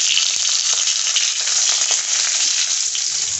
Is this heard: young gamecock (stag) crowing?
no